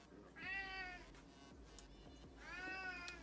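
A house cat meows twice, two drawn-out, fairly faint calls spaced a couple of seconds apart against a quiet indoor background with no talk.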